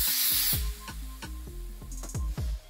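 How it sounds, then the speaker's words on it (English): Disinfectant spray hisses onto a countertop in a sharp, close burst, followed by a series of crackling, ticking sounds and a second brief hiss near the end. "this is some good disinfectant spray. It make a little sizzle sound when you spray something."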